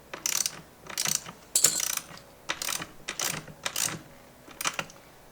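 A carriage bolt being tightened on a utility cart gives a series of loud, ratcheting mechanical bursts, about eight separate clicking runs spaced through the span, close up with no voices.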